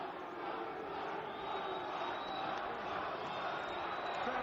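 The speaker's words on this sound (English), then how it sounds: "Crowd are going even more impatient because of the lack of work." A boxing arena crowd at a heavyweight bout between Audley Harrison and Danny Williams gives off a steady, dense roar of murmuring and shouting, loud and continuous throughout with no single voice standing out.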